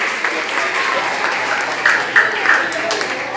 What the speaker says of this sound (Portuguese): Muito bem, palmas.